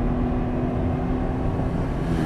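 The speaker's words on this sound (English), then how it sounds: "It loves to go right up the rev range." A Ferrari Dino 246 GT engine drones steadily at close range, a continuous loud tonal hum with a strong low buzz that holds an even level for a couple of seconds without voices.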